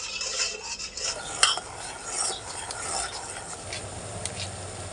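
Yellow food colouring being stirred into sugar syrup for Gujarati jalebi, a steady soft scraping and swirling with a few brief clinks of a spoon against the pan, close and fairly quiet, with no talking.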